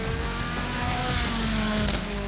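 A Caterham 620R lightweight sports car drives at speed on a track, its engine roaring loud and continuous with shifting pitch and a rough, dense exhaust note, with no one talking.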